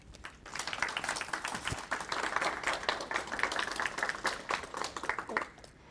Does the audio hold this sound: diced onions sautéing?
no